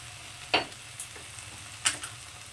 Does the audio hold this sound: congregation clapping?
no